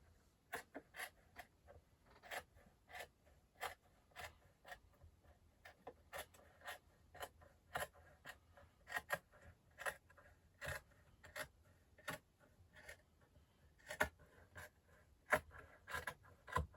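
Scissors snip through hoodie fabric in a long run of quick, crisp cuts, close and fairly quiet, with an uneven rhythm of short bursts and no talking.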